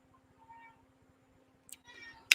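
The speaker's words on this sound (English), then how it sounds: "I might hear my cat in the background" A pet cat gives a short, faint meow and then a sharper, louder cry at the end, both distant and set against a quiet room with a low steady hum.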